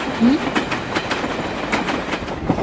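A moving train rumbles steadily nearby, with rhythmic clickety-clack of wheels over rail joints and a brief squeal early on.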